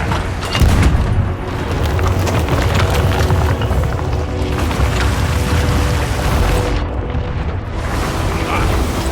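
Pirate ship cannons fire in the Sea of Thieves video game, a loud, dense run of booming blasts that roll on almost continuously amid game sound and music.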